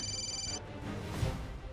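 A telephone rings with a short electronic tone for about half a second, then it cuts off and leaves a soft room background, in a scene from a Hindi TV serial.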